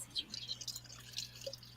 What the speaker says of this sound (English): Were you pouring something?